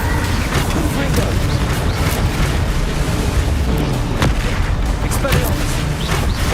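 Repeated booming blasts from the Confringo fire spell in the game Hogwarts Legacy, loud dense explosions layered continuously with crackling impacts throughout.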